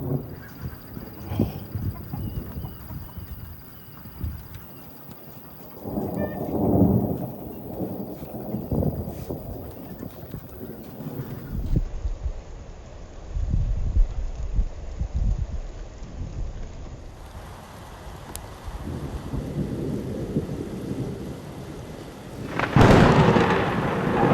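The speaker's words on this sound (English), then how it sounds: "This storm is really rolling along." Thunder from a summer thunderstorm rolls and rumbles low, with several swelling peals that rise and fade. Steady rain noise sits underneath, and one louder crack comes near the end.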